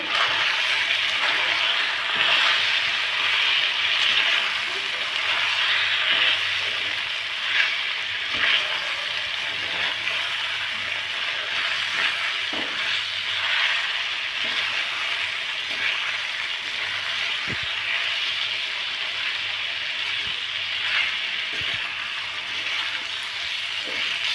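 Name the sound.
sautéing ginger paste and spices in a pan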